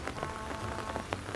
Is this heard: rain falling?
yes